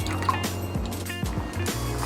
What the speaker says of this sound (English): All right, my water is boiling.